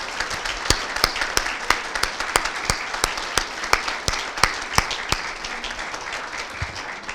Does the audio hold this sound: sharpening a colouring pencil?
no